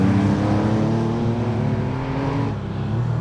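Workshop 5001 restomod Porsche 911 engine revving hard through a corner on a road, a loud sustained multi-toned roar that eases briefly near the end, heard without talk.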